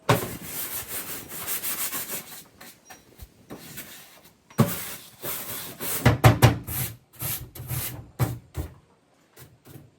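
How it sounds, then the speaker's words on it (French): Furniture is sanded by hand in a workshop, with irregular bursts of rough rubbing strokes against wood, close and loud, broken by pauses and a few knocks. "je vais en profiter pour faire une petite pause ponçage de meubles"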